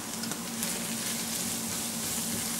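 Turmeric and garam masala powder frying in oil in a pan for egg puff filling, a steady, even sizzle heard close by, continuous and moderately loud with no speech.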